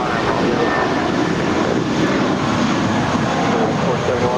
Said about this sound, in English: that is Air France Flight 66 coming in from Paris